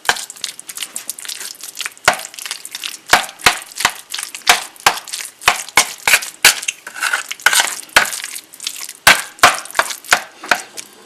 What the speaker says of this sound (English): I'll start stirring that.